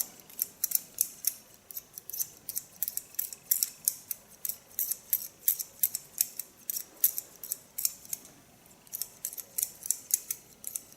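Scissors snipping hair during an asymmetric haircut at a salon, a steady run of quick, crisp metallic snips close to the ear, repeating in rhythmic clusters with brief pauses and no talking.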